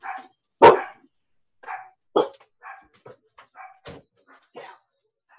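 Indoor dogs bark in sharp, close bursts and give softer whimpers and yips between them, spaced irregularly across a few seconds against otherwise quiet surroundings.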